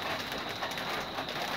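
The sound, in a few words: rain falling on strawberry plants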